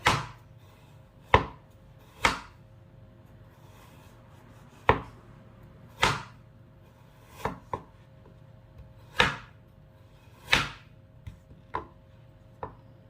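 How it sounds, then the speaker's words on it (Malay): Fresh ginger sliced lengthwise with a knife on a board, a dozen or so sharp, separate cuts at an uneven, unhurried pace, close and clear against a quiet room. "Kita hiris halia memanjang-manjang seperti ini ya"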